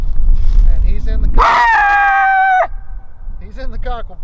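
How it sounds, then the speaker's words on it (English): A hunting dog caught in a cocklebur patch lets out a loud, drawn-out whimpering yelp, then gives a few softer whines, over outdoor rustling. "Well, we got the second dog."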